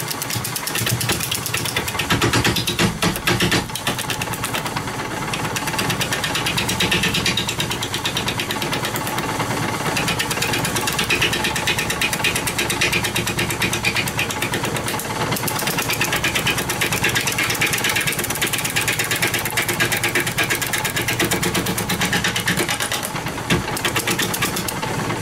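A wood lathe spins a myrtle wood bowl blank at 530 RPM, giving a steady, loud mechanical hum and whir with a rattling, vibrating edge that runs continuously and alone throughout.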